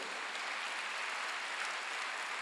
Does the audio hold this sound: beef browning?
no